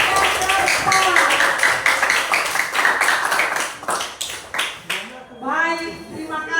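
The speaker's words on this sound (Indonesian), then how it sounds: "beri tepuk tangan kepada kelompok yang" A classroom of students claps for a presenting group, with sharp, uneven hand claps throughout and a voice speaking toward the end.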